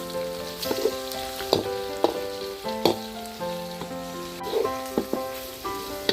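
Pork pieces frying in hot clear oil while being stirred, a steady bubbling sizzle broken by regular scraping clinks of a utensil against the pan, close and moderately loud with no voices.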